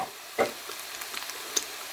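Potatoes fry in a small pan, giving a quiet, steady sizzle with scattered soft crackles and one or two sharper clicks.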